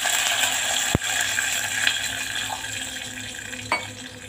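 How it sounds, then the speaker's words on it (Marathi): A glass of water is poured into a pan while making dhokla, giving a steady close splash and hiss with a couple of sharp clinks against the metal. "1 ग्लास पाणी ओतून घेते"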